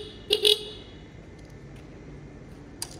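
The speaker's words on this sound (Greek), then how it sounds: "Κόρνα έχει." A Yamaha F1ZR motorcycle horn gives a short, close, loud double beep near the start, followed by quiet background with a faint click near the end.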